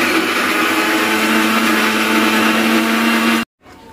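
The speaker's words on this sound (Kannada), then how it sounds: "ಅಂದ್ರೆ ಅದು ಹಿಂಗೆ ಮಿಕ್ಸಿ ಹಾಕೋ ಮುಂದೆ ಸಿಡಿತಾವ ನೀರು" A kitchen mixer grinder blending onions whirs loudly and steadily up close, then cuts off abruptly near the end, leaving near silence.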